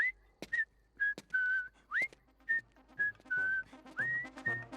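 A man whistles the Creature Commandos theme song, a melodic tune of clear sustained notes in short phrases with brief gaps, close and fairly quiet with faint sounds underneath.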